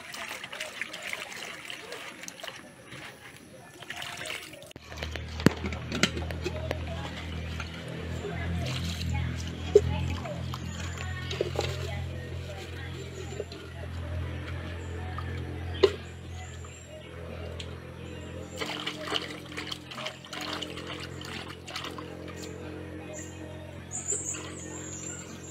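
Something being washed by hand in water meant for drinking: splashing and trickling close by, with birds chirping outdoors and a voice speaking now and then.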